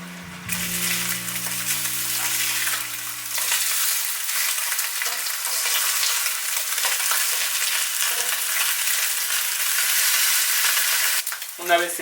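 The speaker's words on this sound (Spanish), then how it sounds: "Una vez que esté bien caliente, vamos a comenzar sellando la carne." Beef sears in hot vegetable oil in a pan, giving a loud, continuous sizzle that holds steady throughout. A few faint knocks and stirring touches come through near the end.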